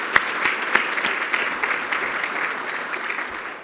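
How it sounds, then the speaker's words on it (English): Audience at a community campaign luncheon breaks into steady applause, a dense wash of hand claps with a few sharper claps standing out, sustained at even strength throughout. "Let's give them a round of applause."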